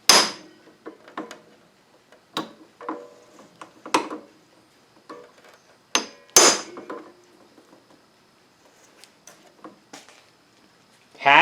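Hammer strikes while working on the carburetor and handlebars of a 2013 TaoTao Pony 50 scooter, sparse irregular sharp knocks with quiet gaps between them, close and moderately loud.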